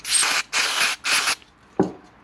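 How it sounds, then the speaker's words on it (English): Three hissing bursts of brake cleaner aerosol sprayed onto Suzuki DRZ 400 engine crankcase halves during assembly, each about half a second with short gaps, followed by a brief clunk. "Brake cleaner."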